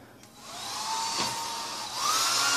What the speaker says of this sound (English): hairdryer here.